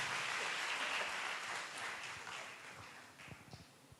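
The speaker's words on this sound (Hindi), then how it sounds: "हम तालियां बजा के परमेश्वर को धन्यवाद दें।" A congregation claps together at a Sunday church service, a steady wash of applause that slowly fades into scattered, uneven claps near the end.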